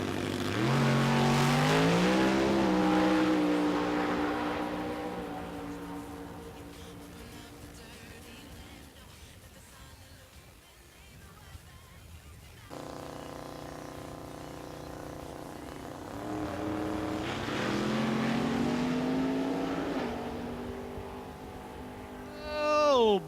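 Drag racing cars, a Mustang and a Camaro in NMCA qualifying at Indy, launch with loud roaring engines that rise and fall in pitch, fade through a quieter stretch, then surge back into a strong roar with a sharp burst at the end.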